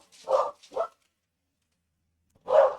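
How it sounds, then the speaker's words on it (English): Dogs bark at a FedEx delivery in a home: two quick sharp barks, a pause of silence, then one more bark, all loud and close with no talking. "And my dogs are now barking at FedEx."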